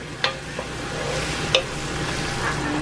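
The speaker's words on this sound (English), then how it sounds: "So we got the onions. And we're just gonna let those cook." Onions cooking in a pan for jollof rice, a steady close sizzle with a few sharp utensil clicks and scrapes of stirring scattered through, no voices.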